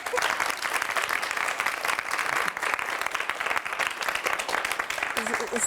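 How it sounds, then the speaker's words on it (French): Continuous audience applause in a French television studio, dense and loud throughout, with voices mixed faintly into the crowd noise. "Ça mérite en effet un applaudissement"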